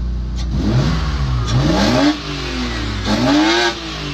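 A white BMW with a 2.8-litre fuel-injected engine of about 200 horsepower revs loudly up close, two rising and falling revs over a rough idle, with no talking.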